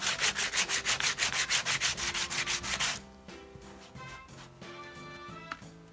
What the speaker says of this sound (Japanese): ヤスリでこうガシガシ擦ってみたり してみたわけなんですけども